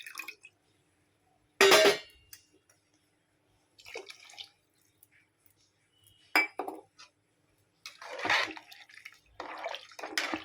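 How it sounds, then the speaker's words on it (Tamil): Water splashes and pours into a metal cooking pot for sweet corn pulao in several short bursts, with faint clinks of utensils between pours; no voices. "மூணுக்கு கொஞ்சமாக அதிகமாக ஊற்றிக்கிறேன்"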